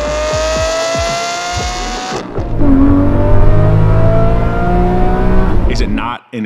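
A Koenigsegg supercar engine revs hard, first with rhythmic low pulses, then a sustained high-pitched wail that climbs and holds before cutting off abruptly near the end; loud and close.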